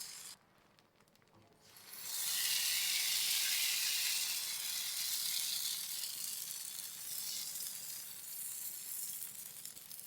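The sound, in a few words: appam batter sizzling on a hot griddle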